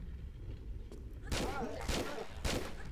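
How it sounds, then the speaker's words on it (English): Pistol shots fired at an enemy in Tomb Raider 3, three sharp bursts spaced about half a second apart over a steady game background hum. "So as you can see, I shoot him an extra time."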